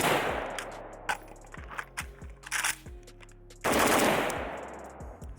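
Close, loud gunfire from a Pioneer Arms 556 sporter underfolder AK: several sharp single shots and short rapid strings, ending in a dense burst that rings out and fades.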